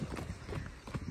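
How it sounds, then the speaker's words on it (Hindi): Horse hooves clip-clopping in a quick, steady rhythm during a horse ride, moderately close, with no speech over them. "अभी रामदेव कर रहा था हॉर्स राइडिंग"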